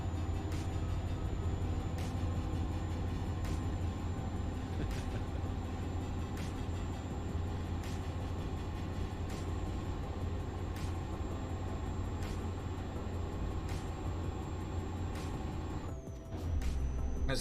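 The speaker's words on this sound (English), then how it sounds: "Are you rearranging the gearbox, Freddy?" Steady low drone of a heavy truck engine in a truck driving video game, with faint regular clicks ticking over it and a brief dip near the end as the gears shift, with no talk.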